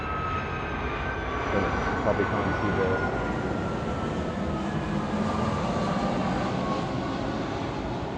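A close airplane passes overhead as a steady, broad roar that holds throughout, with a person speaking over it.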